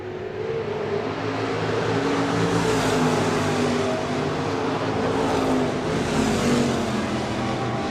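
Stock cars roar around the dirt oval at Crawford County Speedway during a heat race, a dense, loud, continuous wall of engine noise from several cars at once, rising and falling slightly as they pass.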